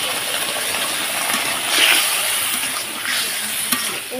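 A steady, loud sizzle and hiss of spice paste being sautéed in oil in a pan for a koi fish curry made without onion or garlic, continuous throughout with small scraping stirs.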